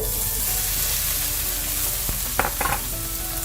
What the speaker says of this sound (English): So I already have a pan heating here with some oil, and to this I'm going to add my microwaved potatoes